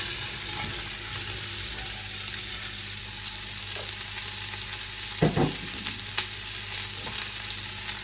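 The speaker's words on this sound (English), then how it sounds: "Now you want to start frying your celery," Celery, carrots and onions fry in olive oil in a pan for a Moroccan lamb tagine, giving a steady close sizzle with occasional stirring scrapes and clinks and no talking.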